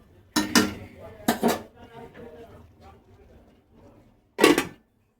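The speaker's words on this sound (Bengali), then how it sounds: "আবার আমি ঢেকে দিচ্ছি, তাহলে আরো তাড়াতাড়ি নরম হয়ে যাবে।" A metal lid clanks onto a pot of cabbage cooking on the stove. Two sharp knocks come close together, then a third after a quieter pause filled with faint kitchen noise.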